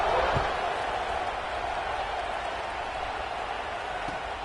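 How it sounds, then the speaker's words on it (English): A stadium crowd at a USC football game keeps up a steady, broad, distant buzz of noise, with a commentator's voice talking over it and a soft thud near the start. "this crowd is buzzing after that last score"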